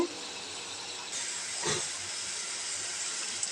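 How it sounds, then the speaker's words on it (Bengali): Ginger, garlic, chili and turmeric being sautéed in a pan, a steady broad sizzling hiss that swells slightly partway through, close and fairly loud with no talking. "মশলা সামান্য কষিয়ে নিয়ে"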